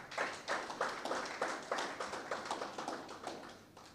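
Applause from an audience at an arts festival gathering in a gallery, a faint, fairly distant patter of clapping hands with a loose rhythmic pulse lasting several seconds, no voices over it.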